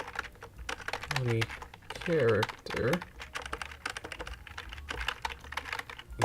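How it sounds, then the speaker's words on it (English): Computer keys clatter in quick irregular bursts close by, with a voice talking between and over the tapping. "Typing is so much fun."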